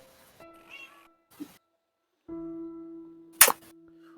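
A cat meows in short, separate calls within a blocky video game soundscape, with sustained tones and a sharp burst partway through; the calls are faint and sparse.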